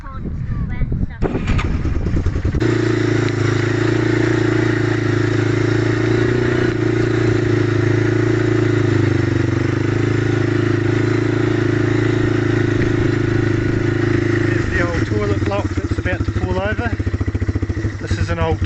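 A 1995 Yamaha Timberwolf 4x4 ATV engine drones loudly and steadily while riding outdoors in New Zealand, a constant close rumble after a rough start, with brief clatter near the end.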